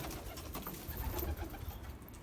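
Pigeons in a loft give a low, continuous cooing murmur at close range, with no talk.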